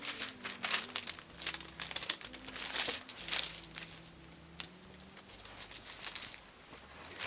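Fabric for a boxer shorts hem being folded and handled, producing close, soft crinkling and rustling in irregular bursts throughout, with a faint low hum underneath.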